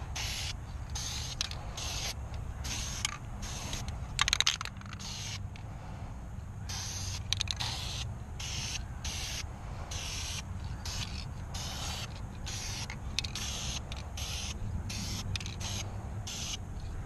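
Repeated short bursts of aerosol spray paint hissing onto a Mercedes car wheel in an even rhythm, separated by brief pauses, close and fairly quiet, with faint background noise.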